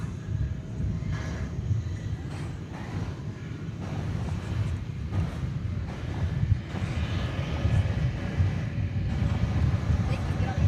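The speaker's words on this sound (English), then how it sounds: "American Flight 1217 is going to Denver. That's an Airbus A321." American Airlines Airbus A321 jet at Dallas Fort Worth airport, a steady distant engine rumble mixed with wind noise, joined by speech.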